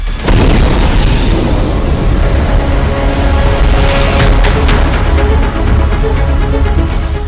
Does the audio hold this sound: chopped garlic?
no